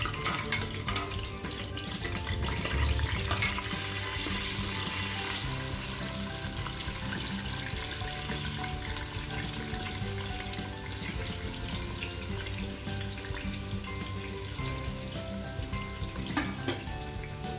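Green chillies frying in hot oil for a chicken biryani: a steady, fairly loud sizzle with a faint watery crackle that runs through the whole stretch. No one speaks.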